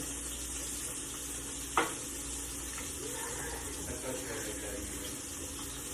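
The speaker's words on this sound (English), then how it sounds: "Stir up my squash and onion" Squash and onion sizzling steadily in a pan, a soft continuous fry with a brief clink of stirring near the start, close and fairly quiet.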